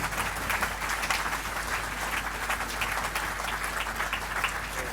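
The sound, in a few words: loud audience applause in a hall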